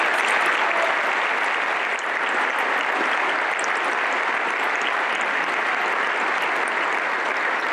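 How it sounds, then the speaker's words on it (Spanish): Sustained applause from a large crowd fills an auditorium at a political party swearing-in ceremony, steady and even throughout, with no speech. "hoy aquí, en este mismo auditorio, aplaudiendo a la gobernadora Claudia Pavlovich"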